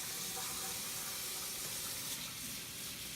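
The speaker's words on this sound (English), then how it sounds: "you just get your hands wet, put some soap on" Tap water runs steadily into a sink as hands are washed, a constant close hiss with no talking.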